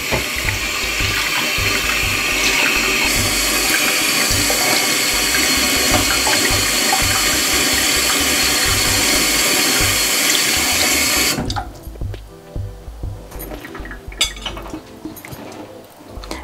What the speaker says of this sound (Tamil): இப்போ அந்த வெட்டின மீனை கழுவ போகிறோம்